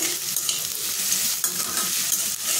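Onion, ginger and garlic sauté in hot oil with a steady, bright hiss and crackle, broken by a few soft scrapes of a spatula, close up and without any voices.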